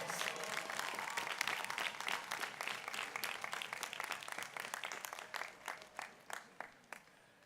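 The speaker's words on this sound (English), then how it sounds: "Let's give her a round of applause." A commencement audience claps for a 1949 Morgan State College graduate seated on stage, a dense roar of many hands that thins out into scattered, distinct claps near the end.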